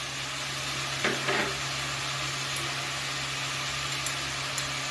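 Winter vegetables (potato, beans, cauliflower) with green chilli, salt and turmeric fry in a pan under a steady broadband sizzle, with a couple of faint stirring scrapes early on and a constant low hum underneath.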